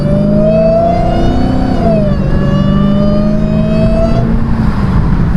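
Dodge Challenger Hellcat fitted with a JLT intake, its supercharger whine rising and falling with throttle over a loud, steady engine roar, the high whine shifting pitch as the revs change, very close and with no one talking.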